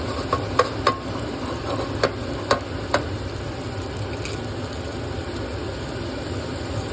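Chopped garlic, fresh and pre-chopped, fries in a pan with a steady low sizzle, broken by a few sharp clicks and taps of a utensil against the pan, close and fairly quiet.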